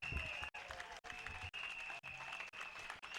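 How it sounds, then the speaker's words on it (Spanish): Applause from an audience at a Venezuelan parliamentary-election political event with a religious tone, a brief dense clapping texture broken by repeated regular dropouts, with some crowd murmur mixed in. "Póngase de pie y denle un aplauso al Señor."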